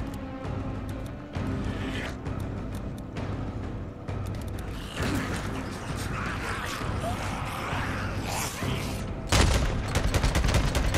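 Bursts of MG45 machine gun fire in a zombie-horde video game mission, rattling in dense volleys with booms and mechanical clanks, loud and almost continuous, with a heavy blast near the end.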